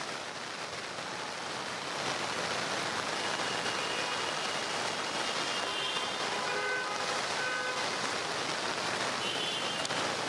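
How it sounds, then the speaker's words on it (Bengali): Heavy rain pours down in Dhaka, a dense, even roar of falling water that swells slightly after a couple of seconds and stays steady throughout. "রাজধানীতে ভোর থেকেই মুষলধারে বৃষ্টি হচ্ছে"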